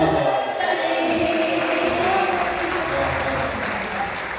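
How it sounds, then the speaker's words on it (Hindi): A mushaira audience at an Independence Day poetry gathering in Kasampur Garhi claps loudly and steadily. The dense applause fills the whole stretch and fades slightly near the end. "बड़ी तालियां, बहुत खूबसूरत हाजिरी।"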